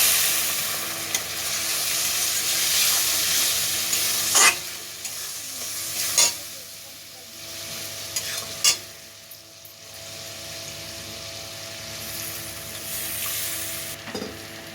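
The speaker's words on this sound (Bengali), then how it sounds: "এবার এর মধ্যে একটু জল দেব, দিয়ে মশলাটা কষিয়ে নেব।" Spice masala for egg chilli stir-fried in a pan with a splash of water, making a steady close hiss and sizzle broken by a few sharp scrapes and knocks of a spatula, with no voices.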